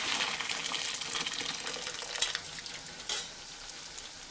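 Pasta is drained in a home kitchen, with a steady rush of water pouring out through a colander. The broadband hiss runs throughout and eases slightly toward the end, with no talking.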